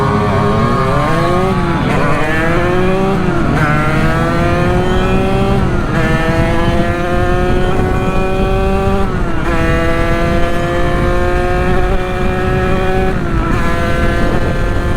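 A Sherco big bore motorcycle engine on a street ride revs hard through repeated climbing pitch sweeps, each one falling away at a gear change. The loud, close and continuous engine sound carries no speech.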